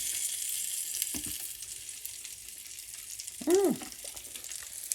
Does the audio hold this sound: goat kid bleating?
no